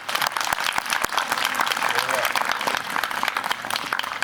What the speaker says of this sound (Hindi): मैं चाहता हूँ कि आपके उद्बोधन पे एक बार जोरदार तालियों से आते हैं।